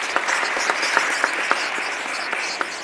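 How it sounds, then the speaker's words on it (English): An audience at a governor's announcement in Western New York claps steadily, a moderately loud wash of applause with a few sharper individual claps standing out, continuing without pause. "Let's give Mr. Phillips a round of applause."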